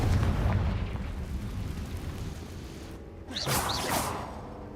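Confringo blasting spell cast in Hogwarts Legacy: a rumbling, explosive burst with a rushing whoosh, followed near the end by a second sharp blast, all loud and close with no talking.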